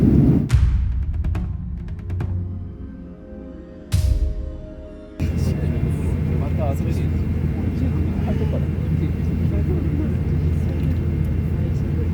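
An airplane landing at Addis Ababa airport in Ethiopia is heard from the cabin. Sharp thumps and mechanical shifts come first, then the engine rumble settles into a steady roar, and a person talks in parts.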